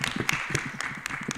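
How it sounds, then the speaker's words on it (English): Conference audience applauding a presenter, a dense patter of many hands clapping at moderate level through the short moment, with no clear speech over it. "Let's clap for Emmanuel, please"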